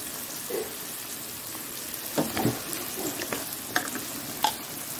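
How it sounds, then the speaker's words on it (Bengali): Onions and potatoes frying in a pan for cholar ghugni, a soft steady sizzle with occasional stirring scrapes and clicks, fairly faint and close. "পেঁয়াজটা খুব বেশি ভাজবো না, এবার আলুগুলো দিয়ে দেবো"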